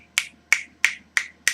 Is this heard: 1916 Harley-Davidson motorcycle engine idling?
no